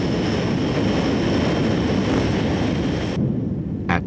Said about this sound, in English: Thrust reached a peak speed of 766 miles per hour and had become the first car to go supersonic.